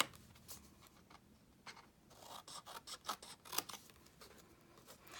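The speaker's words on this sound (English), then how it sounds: "I'm going to cut this piece out, cut down this line, and just notch this a little bit." Scissors snip through a paper card template for a four-fold card in a box, giving a run of soft, close cuts with a few crisper snips that cluster in the middle, quiet and with no voices.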